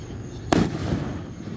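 Fourth of July fireworks over Lake Secession in 2024: one sharp, loud burst cracks out, followed by a rolling rumble that fades slowly over the water.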